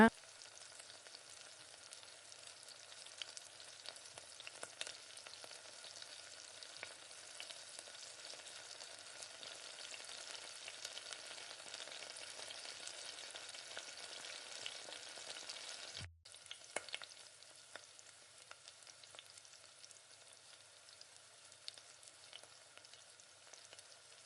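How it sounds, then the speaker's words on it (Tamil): Pakoda frying in a pan of oil makes a faint, steady bubbling hiss with soft crackles, broken by a brief dip partway through. "நல்லா கலந்து கலந்து விட்டுட்டு இந்த மாதிரி பொறிச்சு எடுத்துக்கோங்க"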